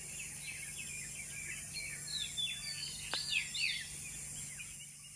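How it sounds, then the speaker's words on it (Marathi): At dawn in Nameri sanctuary, Assam, birds chirp and twitter faintly at a distance in quick, scattered calls over a steady low background hum. "अतिशय सुंदर असा पक्ष्यांचा किलबिलाट ऐकू येत आहे."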